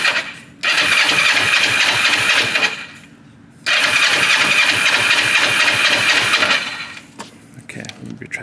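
A 500cc motorcycle engine cranking on choke in two long loud bursts of several seconds each, turning over without catching, with a short pause between and quieter fumbling afterward.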